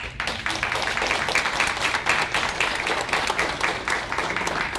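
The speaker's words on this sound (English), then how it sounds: "I think everyone up here deserves a round of applause." An audience at a Thunder Bay candidates forum claps and applauds steadily for several seconds, a dense wash of hand claps without a break.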